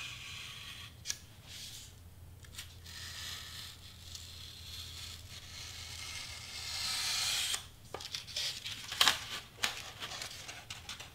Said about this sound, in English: So I'm gonna cut inside because I don't want the foam board to be seen at all.